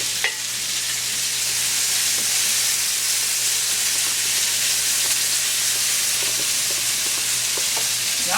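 Onions sauteing in a hot pan, giving a steady broadband sizzle that stays loud and even throughout, with a few faint clicks of a utensil and no talking.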